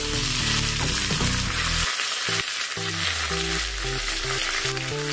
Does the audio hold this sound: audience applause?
no